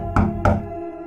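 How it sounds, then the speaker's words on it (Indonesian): Two firm knocks on a door, spaced about a quarter second apart, fairly loud over a steady background hum, in a spoken horror story. "Terdengar suara ketukan pintu"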